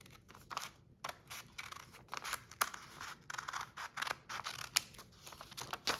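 Scissors cutting through thin organza fabric for a sewn top, a quick run of crisp snips and blade clicks repeating close up, steady and rhythmic throughout.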